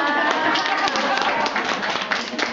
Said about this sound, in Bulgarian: Трябва аплодисменти за Марти